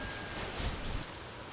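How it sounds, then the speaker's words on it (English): Gusty wind buffets the outdoors in a brief burst, rising and easing again, with nothing else standing out. "It's getting real windy out."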